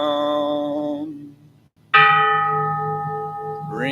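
A bell struck twice during Buddhist chanting, each strike ringing out loud and clear with a long shimmering decay, the second hit following a near-silent pause.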